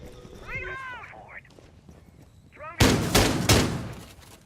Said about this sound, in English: A little bit of gunfire action coming over here.